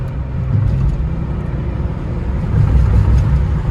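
A cheap auction car's engine strains at freeway speed with a possible transmission fault, a steady low droning hum under road noise that swells slightly toward the end, with no voices.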